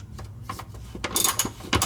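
Ratchet wrench clicking while loosening 17 mm bolts from a rear transmission mount, a short run of close mechanical ticks and a couple of louder metallic clacks near the end, no talking.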